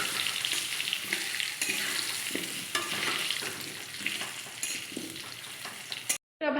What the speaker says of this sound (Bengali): এবার আমি এই খিচুড়িতে দেবো যে আলুটা ভেজে নেব।